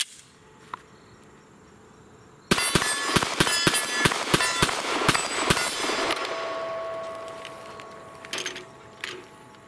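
Rapid string of sharp impulsive shots from an HK VP9 pistol, about a dozen close, loud cracks fired in quick succession, then ringing fading out with faint later pops.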